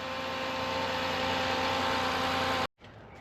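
A Honda Odyssey minivan engine idles close by with a constant low hum and buzzing drone, then cuts out abruptly near the end, leaving quiet background.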